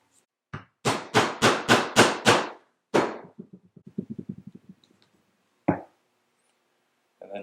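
Sharp stitching chisels are hammered through leather for a pen holder: six hard, evenly spaced blows, then a single strike, lighter rapid taps and one last knock, close and crisp.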